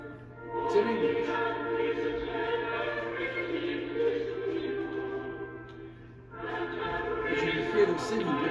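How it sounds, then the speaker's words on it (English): Recording of an Anglican church choir singing a Benedictus in English: sustained, harmonized voices in chorus, swelling and holding chords with a brief dip before resuming. "This is what a Benedictus might sound like in an Anglican church."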